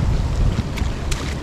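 A small fishing boat rocks on rough water, with engine rumble, wind noise and waves slapping against the hull.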